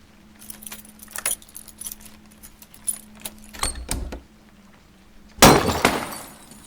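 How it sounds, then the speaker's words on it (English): A bunch of keys jangling and clinking at a locked door in the video game Cabernet, with scattered metallic rattles that build to a loud crash of breaking glass near the end. "Damn keys won't work."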